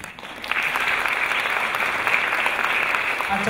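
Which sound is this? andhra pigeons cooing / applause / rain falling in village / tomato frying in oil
applause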